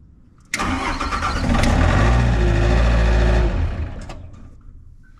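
A Nissan N260 mini excavator's diesel engine, started after a glow plug cycle in cold weather, cranks and catches abruptly, then runs loud and steady for a few seconds before fading.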